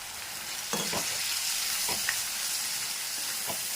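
Dried fish masala curry cooking in a pan with a little water added, giving a steady soft sizzle and bubbling with a few brief scrapes of stirring, close and alone.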